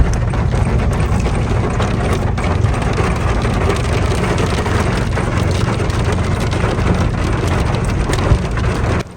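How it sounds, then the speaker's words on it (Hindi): Heavy rain falls outside, a dense, loud, continuous hiss of drops striking surfaces, steady throughout with no voices. "थोड़ा सा मैंने आपको ओरिजिनल साउंड सुनवाया बारिश का"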